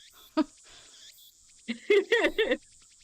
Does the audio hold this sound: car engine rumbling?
no